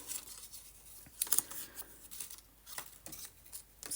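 Scissors snip through paper journal tabs in a few quiet, close cuts, with soft rustling and rubbing of the paper between the snips.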